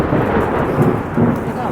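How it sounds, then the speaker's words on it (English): Thunder from a lightning strike about 300 meters away during a camping storm in the Australian outback, a loud, close, continuous deep rumble that swells and rolls under steady rain. "That lightning strike was 300 meters away."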